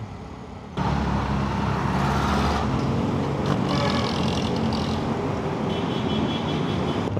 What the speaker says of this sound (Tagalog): Parang maraming sasakyan eh